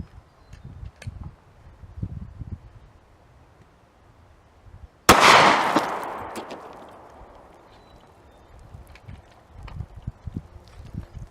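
A single loud, sharp report from a Glock 30 pistol firing a .45 Speer Gold Dot 230-grain hollowpoint at water-filled milk jugs outdoors, with a decaying tail amid quiet rustling before and after.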